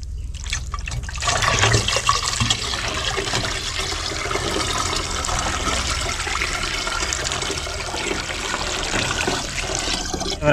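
Water from a homemade free-energy water pump starts after about a second and pours in a steady, loud splashing rush that continues without a break, with no talking.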